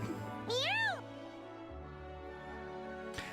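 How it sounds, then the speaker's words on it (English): A game cat gives a single clear, rising-and-falling meow over steady background game music, then the music continues alone. "Meow! Let's follow that cat."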